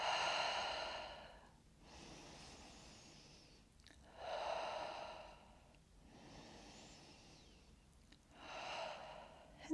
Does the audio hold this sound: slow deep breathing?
yes